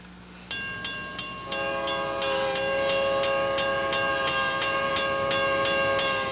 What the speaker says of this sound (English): Now the train's going, making this different kind of horn, which I've never heard.